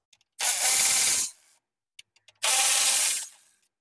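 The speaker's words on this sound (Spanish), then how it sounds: "lo que podemos hacer es quitar este tornillo y este tornillo de 10 milímetros para pues, así empezar a quitar el ventilador del radiador" Two bursts of a 10 mm bolt being worked loose from the radiator fan of a 1994–2001 Acura Integra, each lasting about a second, bright and close, separated by a few small clicks.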